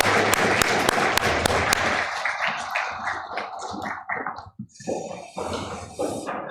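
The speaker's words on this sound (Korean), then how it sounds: "우리 다시 한번 하나님께 영광의 박수 올려드리겠습니다." A church congregation breaks into brisk, loud applause that lasts about two seconds and then dies away, leaving quieter scattered sounds.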